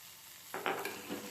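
Bread pizza mixture with a few drops of ketchup frying in a pan: quiet at first, then a sudden burst of close sizzling and stirring scrapes that holds at moderate loudness, with no voices.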